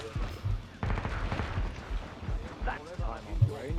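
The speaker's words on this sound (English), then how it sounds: "The sound effect on this SMG is really satisfying to use." Rapid SMG gunfire from the video game Killing Floor 2, several short bursts of automatic shots, close and punchy, mixed with game noise and a speaking voice.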